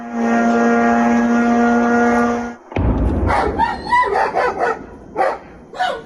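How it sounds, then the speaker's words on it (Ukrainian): A Russian Shahed attack drone crosses the night sky with a loud, even, buzzing engine drone for a couple of seconds. It cuts off abruptly, then dogs bark repeatedly nearby. "в нічному небі знову пронизливий звук російських шахедів, що заходять на удар"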